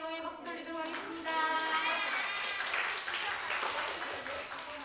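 Children at a church summer Bible school clap, and the applause rises gradually to a moderate volume. Voices and singing-like tones blend in over the clapping.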